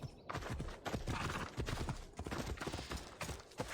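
Horse hooves clip-clop in Assassin's Creed Odyssey, a dense run of close, uneven thuds that fills the whole stretch with no break.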